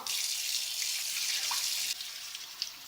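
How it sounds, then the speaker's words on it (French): Kefir grains rinsed under a running kitchen tap. Water pours steadily with a bright hiss throughout, and the splashing changes slightly partway through. "ceux qui sont là-dedans, ben, je vais les rincer, tout simplement."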